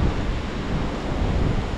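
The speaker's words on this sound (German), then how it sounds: "Es kommt wieder Wind auf." Wind on the Turkish coast rushes steadily against the microphone with a dense, roaring texture like surf, constant and loud with no voices.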